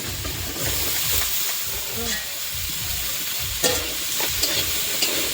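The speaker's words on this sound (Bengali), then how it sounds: "দেখো বন্ধুরা মশলাটা আমার ভাজা হয়ে গেছে এখন কাঁঠালটা আমি দিয়ে দিচ্ছি" A dense, steady sizzle of jackfruit frying with spices in a pan, with occasional scraping and clinks of a spatula; close up, no talking.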